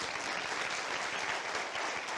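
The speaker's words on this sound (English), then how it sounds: "But please, give him a round of applause again." A conference audience at a cybersecurity summit claps for a speaker, a brief, even burst of many hands applauding at moderate distance.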